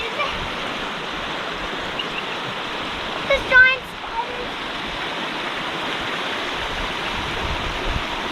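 Creek water at Davies Creek Falls rushes steadily over rocks and a waterfall, a constant broadband wash filling the whole clip, with a brief faint voice-like chirp in the middle.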